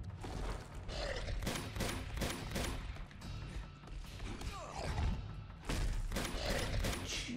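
Gunfire in Uncharted 2: Among Thieves, repeated bursts of shots spread across several seconds, fairly close and steady, mixed with clattering game sounds and no clear talk.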